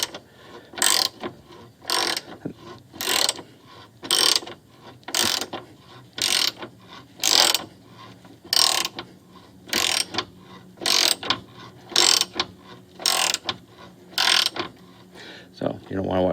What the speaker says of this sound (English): it's going to be a lot easier just to take the 13 millimeter bolt out of each one of